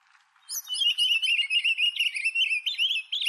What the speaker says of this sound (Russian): Такие трели зимой в Татарстане не редкость.